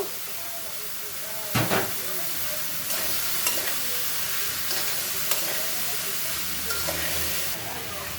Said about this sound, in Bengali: তেলে হলুদ দিয়ে দিলাম দিয়ে দিব কেটে রাখা লাউগুলো